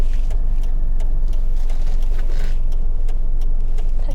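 A small Korean light car, a Kia Morning, creeps forward after the brake is released during a driving lesson, heard from inside as a steady low engine hum and road rumble with faint interior clicks.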